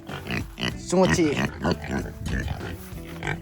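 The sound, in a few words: pig grunting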